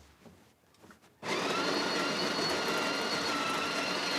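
Coffee grinder grinding home-roasted coffee beans: after a second of quiet handling noise, a loud steady motorized whirring roar starts abruptly and runs without pause to the end.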